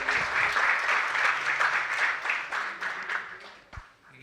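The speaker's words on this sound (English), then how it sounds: "Hand of applause for the panelists, please." Conference audience applauds panelists after a discussion session, a steady, dense wash of many hands clapping that fades out over several seconds with a single thump near the end.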